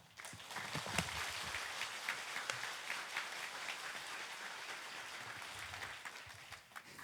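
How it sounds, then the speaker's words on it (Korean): Church congregation claps in a sustained round of applause welcoming the pastor to the front, a soft, even patter heard from a distance. "큰 박수로 모시겠습니다"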